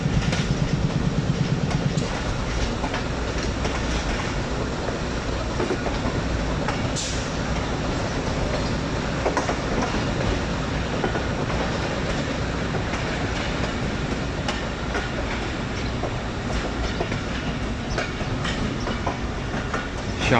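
Narowal Passenger train rolling between Lahore and Narowal, heard from on board as a loud, continuous rumble of wheels on rails with rhythmic clickety-clack and carriage rattle throughout.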